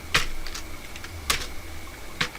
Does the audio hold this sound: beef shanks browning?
no